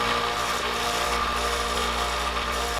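A power tool smooths a handmade wooden jointed-belly emerald shiner jerkbait fitted with its hardware, giving a steady, close grinding whir with an even rasping texture and no pauses or voices.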